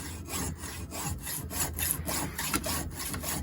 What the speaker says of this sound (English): just let the hacksaw do the work